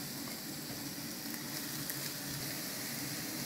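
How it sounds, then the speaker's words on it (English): Chopped onions sizzle in a pan, a steady, faint hiss of frying that holds evenly throughout with no voices. "we start placing our onion first."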